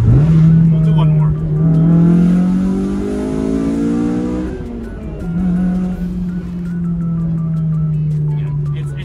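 Honda S2000 exhaust fitted with a Berk 70mm high-flow cat, revved from idle through rising and falling sweeps, loud and close with a raspy edge near the top of the rev range.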